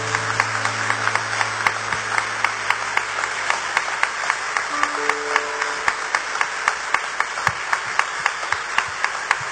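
A church congregation claps for the Lord during a sermon, crisp individual claps standing out in an irregular patter over sustained organ-like tones and a steady hum.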